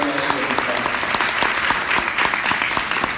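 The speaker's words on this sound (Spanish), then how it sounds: "creo que le damos un aplauso al Espíritu Santo" A gathering at a church training session breaks into sustained applause, many hands clapping steadily and fairly close, filling the room without pause.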